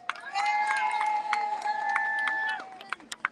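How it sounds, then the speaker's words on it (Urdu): A crowd at a protest in front of the White House in Washington, D.C. applauds and cheers a man on stage, a loud, sustained burst with some shouting that tapers off into scattered claps. "عمران بھائی کے لیے بھرپور تالیاں."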